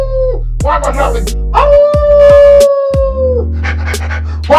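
A cartoon character howls like a dog, with drawn-out wavering howls and whimpers from a voice imitating a dog, loud and close over a steady musical tone.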